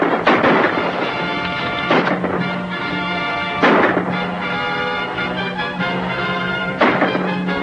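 Gunfire in a 1940 Western shootout, with sharp broadband bursts repeating about every two seconds over a steady rumbling background, loud and close.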